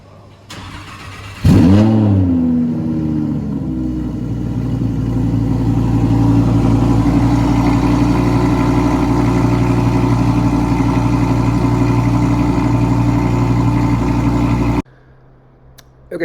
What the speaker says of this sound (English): So here's initial quick start, or initial start of the exhaust.